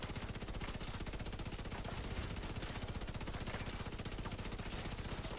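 Rapid, steady automatic gunfire from The Division 2 hammers on without pause, a dense rattling stream of shots held at a constant loud level throughout.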